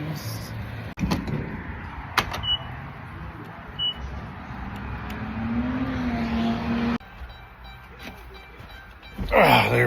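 A car pulls away from a delivery pickup, its engine note rising for a couple of seconds inside the cabin, with a few knocks and a beep around it before the sound cuts abruptly.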